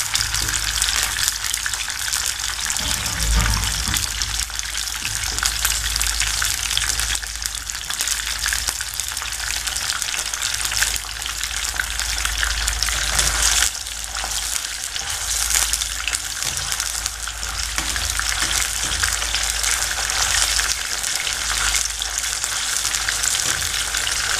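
Chicken pieces for chicken Manchurian fry steadily in hot oil, a dense continuous sizzle that stays loud and close throughout with small bursts of bubbling, no voices present.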